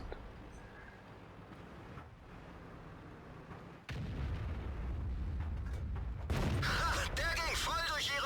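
Tank cannon shots in the World of Tanks video game: a sudden heavy boom lifts into a loud rumbling roar, followed by another burst and ringing clatter, over a low steady engine drone.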